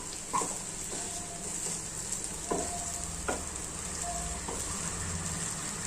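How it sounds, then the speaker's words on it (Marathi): Sago pearls cooking in a pan with a steady sizzle, broken by a few soft scraping stirs at intervals, close up with no voices. "छान असं मिक्स करून घेऊया। थोडा साबुदाणा शिजू द्यायचा।"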